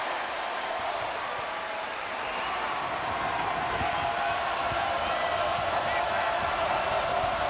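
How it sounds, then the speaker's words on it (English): Crowd noise fills a college women's basketball arena, Connecticut Huskies at NC State Wolfpack, a steady broad roar of cheering and applause throughout with no clear breaks, fairly loud and continuous. "Crowd very engaged."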